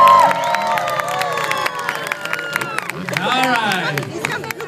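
Crowd at a stunt show at a fair applauding and cheering, a broad, loud wash of claps and voices that stays steady throughout with no talk.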